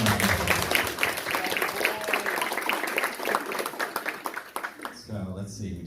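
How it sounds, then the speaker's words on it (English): Hackathon audience claps in a round of applause, a moderate spread of many hands that fades out near the end before a voice begins speaking. "So let's give them a round of applause."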